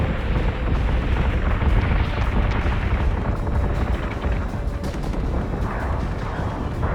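Battleship gunfire and explosions in Battlestar Galactica Deadlock form a heavy, sustained roar of overlapping booms and rapid shots that stays loud and dense throughout, with no talk.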